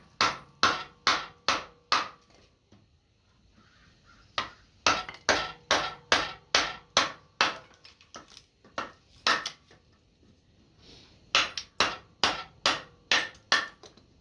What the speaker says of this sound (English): For making kindling, I like to actually use my wood splitter and a hammer.